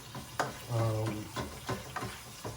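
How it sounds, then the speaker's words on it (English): Meat browns in a pan with recaito, soft sizzling and frying noise broken by a few stirring scrapes and clicks, close and moderately quiet, with some talk around it. "my meat is browning"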